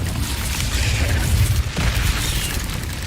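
An Incendio fire spell goes off in the game Hogwarts Legacy as a loud, sustained roaring burst of flame, dense and rumbling for about three seconds with a brief dip near the middle and no speech over it.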